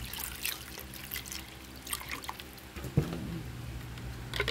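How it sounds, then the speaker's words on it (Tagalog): Water is poured into a blender jar for dragon fruit juice, a steady trickling, splashing stream running close by for several seconds with a brief clatter near the middle and no talk. "Lagyan natin siya ng tubig."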